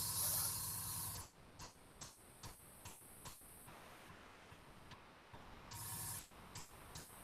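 Spray can hissing paint onto ZM terrain tiles in short bursts, with a longer burst at the start and another near the end, close and fairly quiet with no talking.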